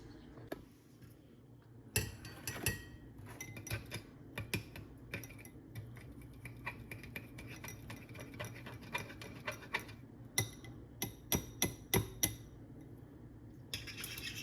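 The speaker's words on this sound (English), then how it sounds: "we have our 4 egg yolks, and I'm going to beat these" Quiet, irregular clinking taps of a utensil beating egg yolks in a bowl, quick bursts with short pauses, close and faint.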